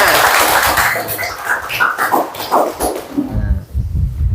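Students in a classroom clap for a classmate who has just sat down: a loud, close burst of uneven clapping for about three seconds, then it thins out and fades, with scattered voices mixed in.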